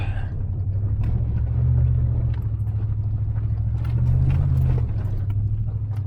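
An off-road vehicle in two-wheel drive climbs an overgrown, bumpy trail, its engine rumbling low and steady with two swells of effort, joined by knocks and rattles from the rough ground.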